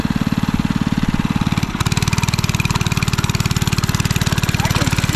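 A mini bike's small engine runs during a test ride, a loud, steady rapid putter with a brief dip partway through before settling back into its even chug; a voice speaks faintly underneath.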